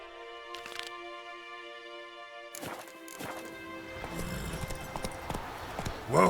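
Horse hooves clip-clop on the ground in The Witcher 3, a few sparse steps at first, then denser and louder trotting over steady game music and ambience, rising near the end.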